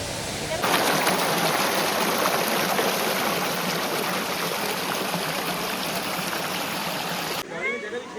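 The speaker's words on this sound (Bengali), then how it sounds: "এই জায়গাটায় এই ঝর্ণার যে জলটা আসছে" Water from the Bhalugarh waterfall stream near Nainital rushing in a dense, steady close roar that starts abruptly and cuts off near the end, with no clear talk.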